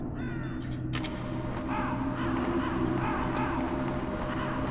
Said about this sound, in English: Oh wait, those are crows.